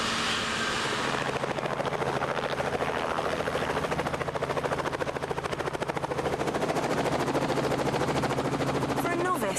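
A Lynx helicopter flies close and loud, its rotor chopping in a rapid steady pulse over a dense engine roar that holds for the whole stretch; no talk is heard.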